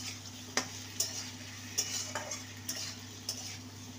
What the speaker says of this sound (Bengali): আদা কাঁচা লঙ্কা দিয়ে ভালো করে কষিয়ে নেব